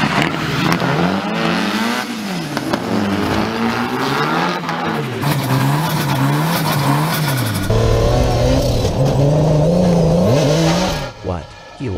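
Drift cars scream along at high revs with squealing tires, the engine note swinging up and down over twelve seconds before a sudden break at the end as one loses control and crashes.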